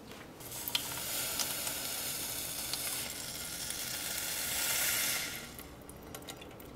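Balsamic vinegar reducing in a hot pan for a tuna meatball sauce gives a steady, close sizzle and hiss that swells briefly before settling back, with no talking.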